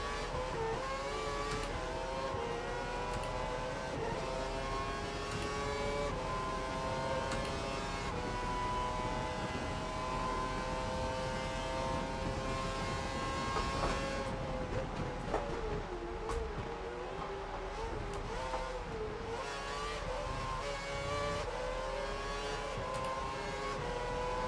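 Formula 1 race car engines in the F1 2012 video game at the Canadian Grand Prix, a loud sustained high-pitched whine with shifting revs and gear changes, continuous and close, with no talk over it.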